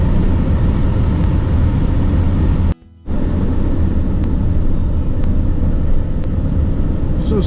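A car cruises along a two-lane road in northwest Montana, its steady interior road rumble and tyre noise continuous apart from one brief near-silent dropout midway.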